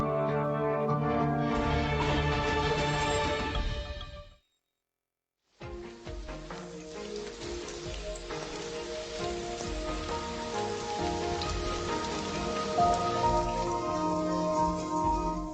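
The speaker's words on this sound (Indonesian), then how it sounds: "Akhirnya turun hujan." Steady rain falling, a dense hiss with a brief silent gap, then continuous and loud again, mixed with a dramatic music bed and no talk.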